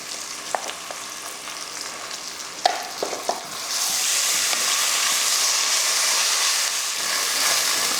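Ginger garlic paste fries in a pan. A few sharp clinks of stirring come first, then a loud, continuous sizzle and hiss rises and holds steady to the end.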